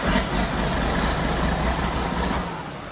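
A John Deere tractor engine runs at a steady, heavy, low idle, loud and close, easing off slightly toward the end.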